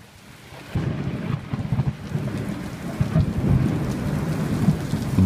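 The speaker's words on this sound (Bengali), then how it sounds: "বৃষ্টিটা কলকাতাতে এবার একটু বেশি হচ্ছে।" Heavy rain pours steadily with thunder rumbling low and close, a dense continuous downpour that swells after a quieter opening second, with no voices.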